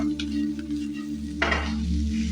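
A spoon scrapes through spiced potato filling with cumin and coriander powder in a hot pan for aloo paratha, giving a soft sizzle under a steady hum and one brief, louder scrape midway.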